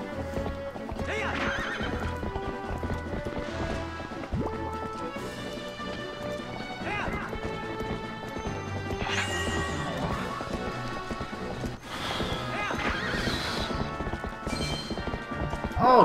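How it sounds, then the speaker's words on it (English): A video game horse gallops over grass with steady, rapid clip-clop hoofbeats, interspersed with neighs and crashing impacts, all under a continuous layer of game music and effects. "The horse runs over grass and then it's like it's getting cut."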